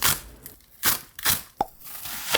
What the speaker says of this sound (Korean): 대파는 두 가지로 썰어요